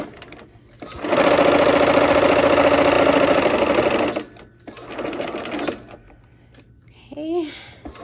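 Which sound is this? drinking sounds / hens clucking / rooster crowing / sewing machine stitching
sewing machine stitching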